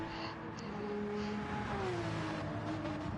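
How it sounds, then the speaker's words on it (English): A Subaru GT3 race car in a racing video game at the Alsace Village track: a distant engine whine that rises and shifts pitch as it accelerates, heard faintly under steady in-game track noise. "It's the Subaru is around them somewhere. You can hear it off in the distance"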